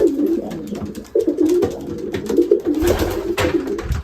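Racing pigeons coo close up in repeated low, throaty calls as males meet a hen, several overlapping bursts with brief pauses and a flutter of movement.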